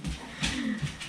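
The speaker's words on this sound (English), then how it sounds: "Excuse my dogs." Dogs whimpering and whining indoors, a few soft, high-pitched cries rising over a low room hum, moderately close, with no talk over them.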